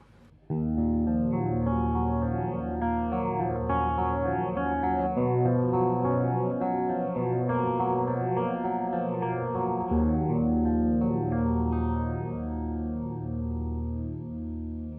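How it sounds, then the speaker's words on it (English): Guitar chords washed in a slow Pastfx Foot Phaser, the tone sweeping up and down in steady waves over sustained, continuous playing. "I tend to like phasers nice and slow"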